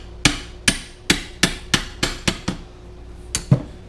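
A hammer taps a PTO drive part onto a Farmall Super M tractor during a rebuild, landing nine sharp metallic blows in an uneven rhythm, close and clear with no talking.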